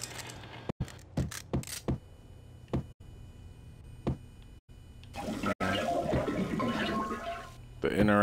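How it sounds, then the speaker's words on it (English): A toilet flushes inside the shooter game Max Payne, a rushing gurgle of water building and swelling over the last few seconds after scattered clicks and thuds, with someone talking over parts of it. "Be out here flushing toilets and stuff."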